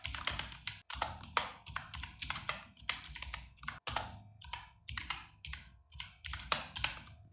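Rapid clicking of a computer keyboard, with bursts of keystrokes separated by short pauses, close up and with no voices.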